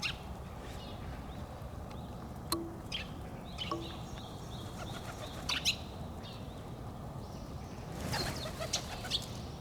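Pigeons feeding in a playground, with bursts of wing flapping at intervals and a few faint chirps over a steady outdoor background.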